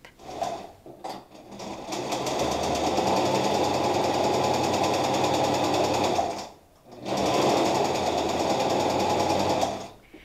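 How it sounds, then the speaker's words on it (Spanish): A sewing machine runs a straight seam on women's trousers in two steady, loud, droning bursts separated by a short pause, with no talking. "nos vamos a ir a la máquina con una costura recta"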